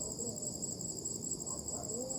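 Many insects chirp in a dark graveyard at night, a dense, continuous high-pitched trill that stays steady and moderately loud throughout.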